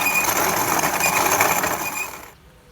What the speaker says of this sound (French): on va pouvoir commencer par moudre ces kilos de grains